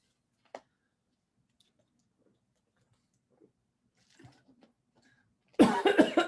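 A loud burst of coughing near the end, several harsh coughs close together after mostly quiet moments with a few faint small noises.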